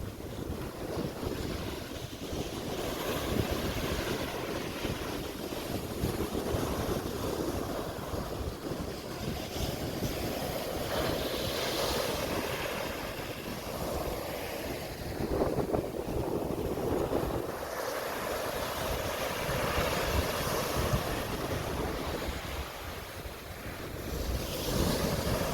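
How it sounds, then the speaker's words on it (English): Atlantic Ocean surf rolls steadily onto Fernandina Beach, Florida, a continuous wash of waves mixed with heavy wind buffeting the microphone, with no voices. "Love the sound of the Atlantic"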